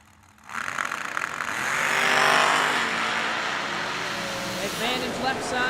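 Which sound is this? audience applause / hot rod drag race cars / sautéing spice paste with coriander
hot rod drag race cars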